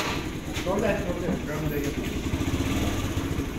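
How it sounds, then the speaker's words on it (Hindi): A motorcycle engine in a village runs with a steady, mid-pitched throb close by, while people talk over it throughout. "बाइक स्टार्ट हो जाएगी"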